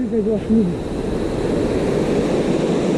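A 150-foot waterfall in Keonjhar pours with a constant, broad rushing roar, and a voice speaks briefly over it at the start.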